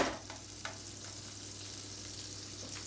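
Butter sizzling and frying in a pan, a steady soft hiss with a few faint clinks near the start, no talking.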